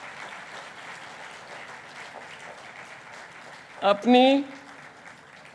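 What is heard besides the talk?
audience applause for volunteers at a devotional event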